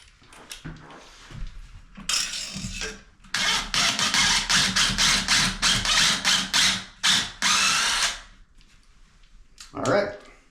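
A power drill whirs in short, loud bursts while drilling a pilot hole, several pulses in a row with brief pauses, close by, followed by a final short burst.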